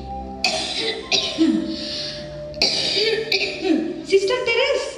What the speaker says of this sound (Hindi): आप बार बार क्यों खांस रही हैं?